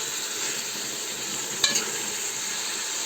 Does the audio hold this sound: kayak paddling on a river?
no